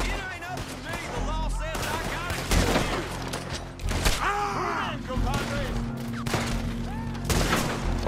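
In a Red Dead Redemption 2 shootout, a single-shot weapon fires between dense bursts of gunfire. Loud cracks and booms repeat irregularly over a busy game soundtrack, and voices talk through it.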